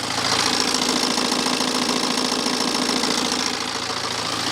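A BMW N47 520d diesel idles steadily up close with a continuous metallic rattle and clatter from the timing chain, a dense mechanical noise with no talking.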